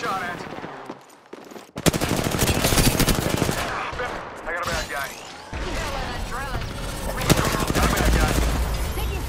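Rapid automatic gunfire bursts in Apex Legends ranked play, loud and sustained across the clip with dense crackling shots, overlapped by game voice callouts and player talk.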